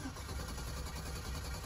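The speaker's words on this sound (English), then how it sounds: "See, it just cranks." A Chevrolet Silverado with a swapped-in built 6.0 LS V8, warmed up with the check engine light on, cranks without starting: a steady, muffled churning drone of the starter turning the engine over, nearby, with no talk.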